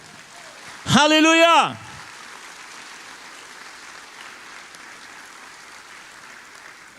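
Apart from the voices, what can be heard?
church congregation applauding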